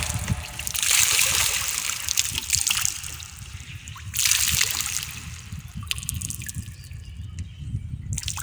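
An impure cloth is rinsed in water: loud splashing and trickling surges in two bursts, then softer sloshing and dripping, close by, no talk.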